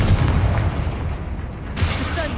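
Explosive spell impacts in the Hogwarts Legacy video game, a run of heavy booming blasts with rumbling low-end thuds and a sharp burst near the end, loud and close with battle clamour.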